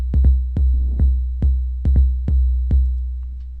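A deep electronic bass beat thumps steadily with sharp, punchy hits over a constant low sub-bass drone, no voices.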